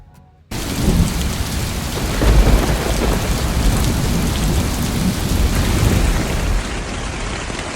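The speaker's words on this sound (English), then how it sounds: "So it is raining very, very hard right now." Very heavy rain pounds a tent in a dense, loud, continuous roar, with deep thunder rumbling through it, starting abruptly after a moment of near silence.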